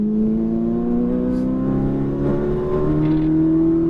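Ferrari 458 Italia accelerating on a race track, its engine note climbing steadily in pitch as it pulls hard, loud and close from inside the car, with no speech.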